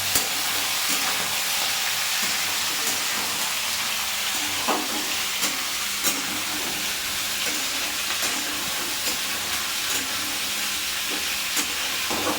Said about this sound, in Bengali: এই যে সুন্দর গরম হয়ে গেছে তেলটা। এবার আমি সব কেটে রাখা সবজিগুলো দিয়ে দেবো।